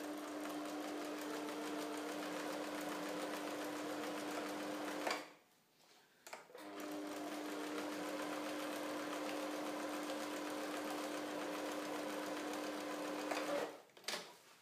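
A sewing machine stitches a tight zigzag seam along the luff of a small sail for a model Imoca racing yacht, running with a steady, high hum. It stops briefly near the middle, then runs on and pauses again at the end.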